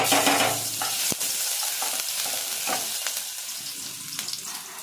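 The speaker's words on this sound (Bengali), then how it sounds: "এবারে দিয়ে দিচ্ছি গ্রেট করে নেওয়া আদা।" Grated ginger hitting hot oil in a pan, a loud close sizzle that starts strong and settles into a steady crackling hiss, with a sharp utensil knock near the start and a few soft stirring scrapes, no voices.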